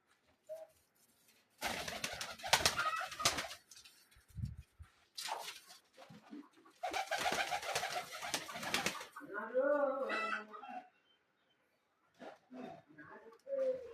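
Pigeons in a loft on a Rajshahi pigeon farm coo in repeated bursts, close and clear, with pauses between calls and a voice talking briefly near the end.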